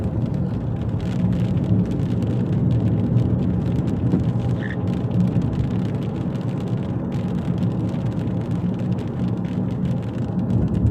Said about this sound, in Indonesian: Kan hujan besar lagi.